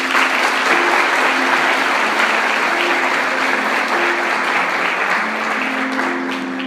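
Sustained applause from a large church congregation, steady and full throughout, with no talking over it.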